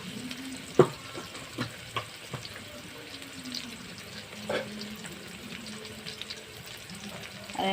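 Potatoes frying in a pan during fish curry preparation, a faint steady sizzle with occasional stirring clinks and scrapes, no voices.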